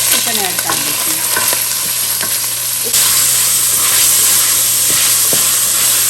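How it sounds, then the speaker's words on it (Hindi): Chicken pieces frying in hot oil with ginger garlic paste, a loud, steady close sizzle with crackles and occasional stirring scrapes and clinks of a utensil against the pan, continuous throughout. "ये अब चिकन जो है मैं इसमें फ्राई कर रही हूँ।"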